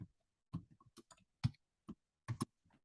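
A computer keyboard is shifted and tapped, giving scattered faint clicks and knocks in irregular bursts with quiet gaps between them.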